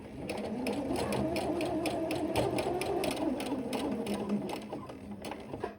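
A sewing machine hems a jersey skirt, running in a steady, fast chatter of needle strokes close up, alone with no voices, before easing off at the very end.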